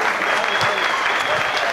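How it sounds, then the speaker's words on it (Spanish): Steady, loud applause from a stand-up comedy audience, cheering on the comedian's daughter, a continuous wash of clapping throughout. "un aplauso para ella,"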